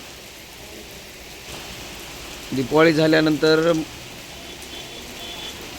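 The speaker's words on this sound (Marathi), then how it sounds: "आज रोजी अर्धापूर शहरामध्ये पावस पाऊस चालू आहे" Heavy rain pours steadily over Ardhapur town in Nanded district, a dense, even hiss that runs throughout while someone speaks briefly over it near the middle.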